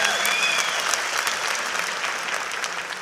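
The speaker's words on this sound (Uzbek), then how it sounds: "Arziydi qarsakka. Arziydi." An audience claps in sustained applause, a dense, bright patter of many hands that stays loud and even before easing slightly toward the end.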